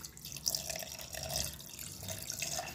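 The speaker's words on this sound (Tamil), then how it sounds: "இதுக்கு தேவையான தண்ணி சேர்த்துக்கலாம்." Water, 850 millilitres, is poured into a cooking pot with ginger and garlic for beef biryani, giving a continuous close splashing trickle with no speech.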